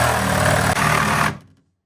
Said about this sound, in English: And then I take a little reciprocating saw like this.